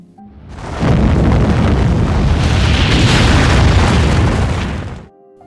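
An atomic bomb explosion sound effect: a single huge, sustained blast rumble that swells in quickly, roars loudly for about four seconds and then cuts away abruptly.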